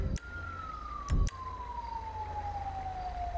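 A wailing emergency siren in GTA V during a police patrol mod session, a steady descending tone held throughout, with two brief louder bumps of game noise early on.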